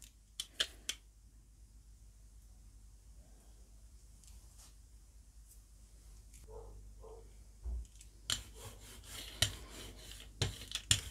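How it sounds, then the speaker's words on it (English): A rubber brayer rolls paint across a Gelli printing plate in quiet, soft rubbing passes, followed by a burst of sharper sticky rasping strokes near the end, close up with no talk. "use the brayer to spread this out until I've got a nice even coating"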